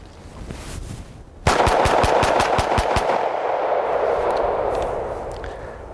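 A 1911 pistol fires a rapid string of about ten sharp, loud shots, evenly spaced over roughly a second and a half, followed by a lingering rumbling echo, no voices.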